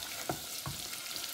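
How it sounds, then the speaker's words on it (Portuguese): Chopped onion sizzling in melted butter in a pan, a steady close hiss with two soft spoon taps and no talk. "A manteiga derretendo, vamos acrescentar a cebola."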